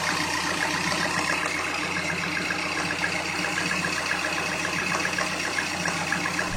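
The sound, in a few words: Peugeot THP petrol engine with timing chain rattle, cold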